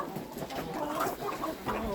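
Backyard chickens and turkeys cluck and murmur while eating potatoes, with soft overlapping low calls and a few brief higher notes, fairly close on a rainy day.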